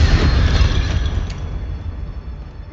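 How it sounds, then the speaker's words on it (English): A Confringo fire spell explodes in the Hogwarts Legacy video game: one loud, broad boom at the start that rumbles and slowly fades over a few seconds, with no voices. "Incendio! Confringo!"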